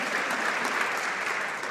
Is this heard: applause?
yes